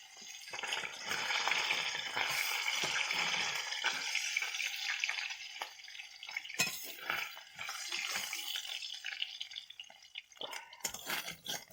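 Pabda fish fry in hot oil in a wok, giving a continuous crackling sizzle with bursts of sputtering and sharp pops throughout.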